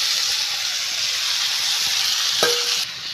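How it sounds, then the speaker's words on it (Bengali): Pre-fried potatoes go into a hot, sizzling pan with spices for kosha aloo dum, giving a loud, steady frying hiss throughout, with a brief clatter partway through, close and without talk. "তারপর ভেজে রাখা আলুটা আমি দিয়ে দিলাম।"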